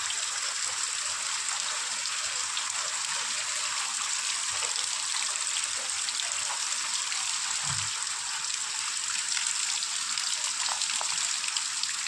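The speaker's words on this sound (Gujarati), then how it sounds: "અત્યારે વરસાદ આવે છે ફૂલમ ફૂલ વરસાદ ચાલુ જ છે" Heavy monsoon rain pours steadily and loudly, a dense unbroken hiss with water running and trickling nearby, continuous throughout with no one speaking.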